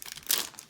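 Cardboard and plastic packaging of a board game expansion torn open by hand, a short crinkling rip that peaks briefly in the middle, fairly faint and close, with no voices.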